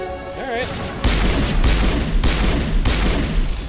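Gunfire from a gun in the Mass Effect video game: several loud, booming shots land about once every half second, each a sharp broadband crack with a heavy low-end tail, preceded by a brief warbling electronic tone.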